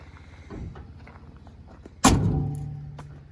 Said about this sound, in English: Best shutting pickup doors